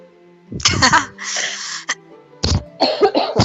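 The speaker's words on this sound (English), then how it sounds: "I almost coughed in y'all's ear." A person coughs several times at close range, loud and harsh, in a cluster of short hacking bursts with throat-clearing between them.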